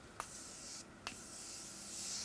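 A drugstore makeup setting spray is misted in two short, sharp hissing bursts about a second apart, heard close and alone against a quiet room.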